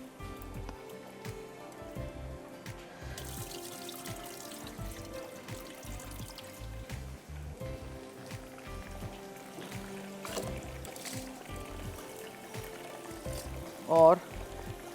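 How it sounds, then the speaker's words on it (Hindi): Leftover water from cooked rice is poured away in a home kitchen, giving a continuous splashing, rain-like patter close by for the whole stretch, with a brief louder clatter near the end. "मीनवाइल यहाँ पानी मैं फेंक देती हूँ जो चावलों का है।"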